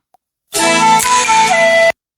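A short burst of bright electronic music from an MP3 triggered by a pad on a Roland XPS-30 keyboard kicks in abruptly, plays for just over a second, then cuts off cleanly.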